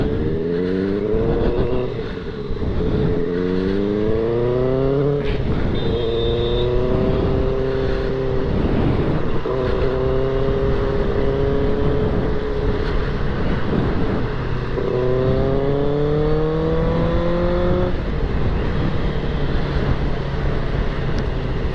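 A 600cc superbike cruising a highway in second gear, its engine droning loud and close with repeated rising revs and gear-change dips, wind noise underneath throughout.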